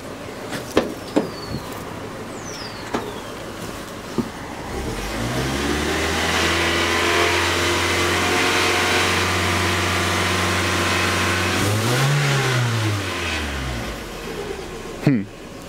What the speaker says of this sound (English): Funny thing is the engine's running better now than it was before.